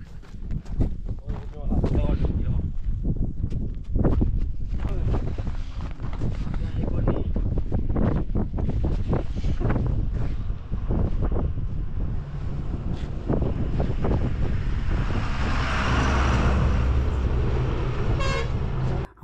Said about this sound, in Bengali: প্রচণ্ড ঠান্ডা হাওয়াও বইছে।